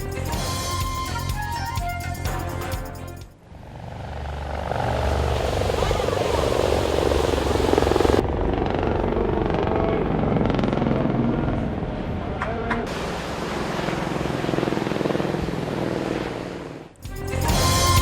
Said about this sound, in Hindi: ब्राजील के साहिल पर हेलीकॉप्टर से करतब का शानदार मुजाहरा।